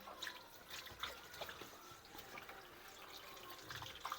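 Water runs and drips out of a washing machine that is being cleaned, a faint, steady trickle with scattered drops and no voices.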